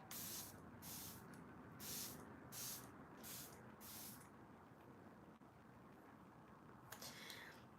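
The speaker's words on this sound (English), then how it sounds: "I like to use it as a facial spray" A facial mist spray bottle puffs out a series of short hissing bursts in steady rhythm, about seven close sprays, then a pause and one last spritz, loud and near with no talk.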